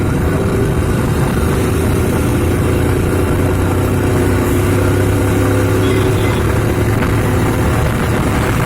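A motorcycle rides along an empty road, its engine drone steady and loud, mixed with heavy continuous rushing noise throughout.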